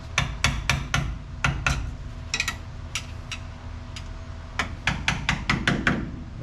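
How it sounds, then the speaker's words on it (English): Hammer and chisel striking metal to knock hub nuts and bearings loose from a car wheel hub during an ABS repair: sharp, ringing blows in quick irregular bursts of two to four, close and loud, with short pauses between. "Let me grab a hammer and a chisel. We'll start pulling all the nuts and the bearings out"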